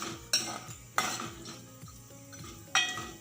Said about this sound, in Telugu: ఇప్పుడు పచ్చెనపప్పు వేస్తున్నాను చూడండి